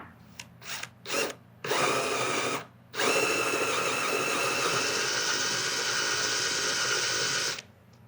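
A power drill revs in a few short bursts, then runs continuously in a loud, steady whine before stopping.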